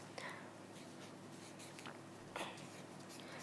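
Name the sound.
writing a name on paper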